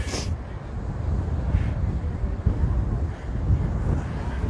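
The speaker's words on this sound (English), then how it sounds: "I knew that it was going to be windy, but not this windy." Strong wind on Oahu's south shore near Waikiki buffets the microphone with a steady, roaring low rumble that surges and dips throughout, loud and close.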